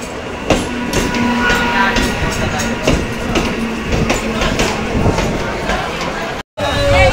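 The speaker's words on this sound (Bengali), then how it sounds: "আমাদের ট্রেন ঢুকে গেছে গাইজ" An ICF Lalgola passenger train rolls into a crowded station, a loud close rumble of wheels with rhythmic clickety-clack from the carriages passing, a brief break near the end, with people talking over it.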